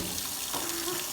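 Water runs from a lab tap during a chemistry vacuum filtration, a steady close hiss of flowing water through the whole short moment with no talk.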